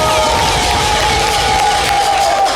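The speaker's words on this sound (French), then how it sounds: "Allez, applaudissements pour Jojo, s'il vous plaît." An audience at a live stage show cheers and applauds loudly and close by in a dense, continuous wash of crowd noise, with a sustained whistle-like tone riding over it.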